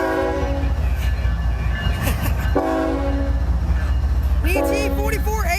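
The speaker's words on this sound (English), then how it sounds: "And we got an empty coal train." An empty CSX coal train rolls past near Grafton, West Virginia, its heavy rumble continuous and close, with several loud horn blasts sounding over the passing cars.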